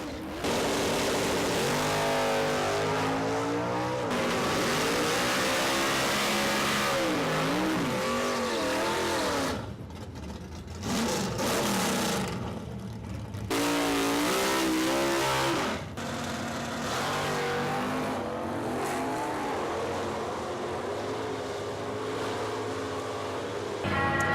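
A drag racing car's engine revs hard and repeatedly while its tires squeal and burn heating up, loud and sustained, with a short lull before the roaring resumes.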